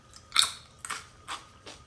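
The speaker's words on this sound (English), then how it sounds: "It's got a good crunch to it. Just like potato chip." Four crisp crunches spaced about half a second apart, close and fairly loud, from biting into a brittle dehydrated lunch-meat chicken chip; no voices.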